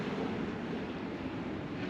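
Sea surf breaking on the shore a few kilometres outside Almería, a steady broadband wash of waves with some wind noise on the microphone, moderately loud and continuous, no voices.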